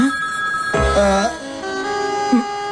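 A phone rings with a steady electronic ringtone tone, moderately loud, with a brief burst of other sound partway through in an office scene.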